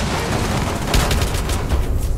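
Rapid gunfire from a Rainbow Six Siege match fills the clip as a steady, dense volley with sharper bursts partway through, loud and continuous throughout.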